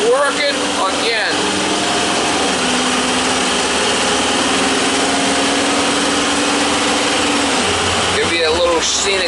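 A vehicle engine hums steadily while driving, a constant drone with a whining tone and road noise throughout, and a person talking at the start and end.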